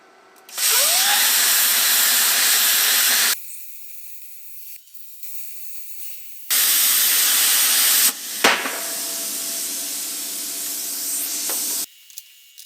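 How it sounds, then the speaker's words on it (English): An ARCCAPTAIN CUT 55 plasma cutter slices through roughly 3/4-inch metal with a lip, giving loud, harsh hissing bursts of a few seconds each that are separated by quieter stretches. "So I'll try to cut it by apply the plasma cutter this way."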